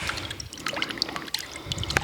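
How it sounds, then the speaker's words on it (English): Half a cup of lemon juice poured into a mixing bowl, a close, bright trickling splash that runs steadily for a couple of seconds with small drips, no talk over it. "that is 1/2 cup of lemon juice. I'm going to pour it"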